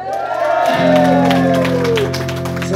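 Audience applause and cheering at a live rock band concert in the rain, a broad wash of clapping and crowd noise with sustained band tones ringing underneath.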